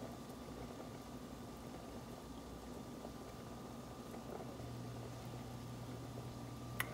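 Beef feet boiling in a pot of spiced water make a faint, steady bubbling simmer with a low hum underneath, continuous and close, with one small click near the end and no talk.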